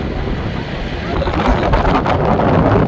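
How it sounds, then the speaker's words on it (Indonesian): Strong wind blows at Mina near the Jamarat during the Hajj, a continuous loud roar with gusts battering the microphone. "Angin kencang, agak sedikit menghangat ya."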